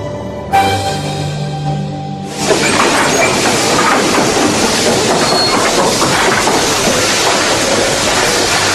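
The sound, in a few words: train running on rails, audio drama sound effect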